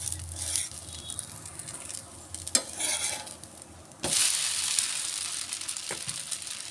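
Dosa cooking on a hot pan at home, a soft continuous sizzle of batter frying with a few sharp scrapes and taps of a spatula against the pan.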